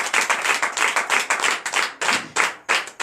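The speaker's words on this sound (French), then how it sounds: "Donc je vous demande d'applaudir très fort." A church congregation at a Friday night deliverance and prophecy service in Comè, Benin, claps loudly and rhythmically, a dense close burst of many hands repeating in quick waves.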